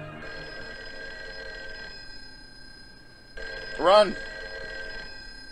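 An old-fashioned telephone bell rings in a vintage TV short, a brief harmonic trill near the end over a steady hum, with a voice shouting just before it.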